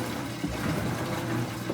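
A Whirlpool WTW5000DW top-load washer draining, its pump running as a steady low hum under a constant gurgling rush of water, close and continuous without speech.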